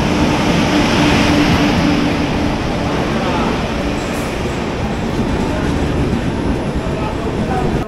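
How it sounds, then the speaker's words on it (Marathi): The Rajdhani Express arrives at a station, rumbling loudly and continuously, a heavy, roaring clatter of carriages rolling close by. "राजधानी एक्सप्रेस आ गई"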